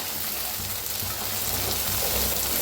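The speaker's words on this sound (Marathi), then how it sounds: "आता छान असं भाजून घेऊया।" Roselle leaves (ambadi) roasting in a hot pan, a steady close sizzle and crackle with faint stirring scrapes, no talk.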